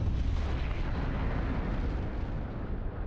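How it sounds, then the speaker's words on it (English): A deep, low explosion rumbles through a scene in the video game Virtue's Last Reward, a dense, steady roar that fills the whole stretch and fades only slightly toward the end, with no voices. "Suddenly a low rumble shook the building."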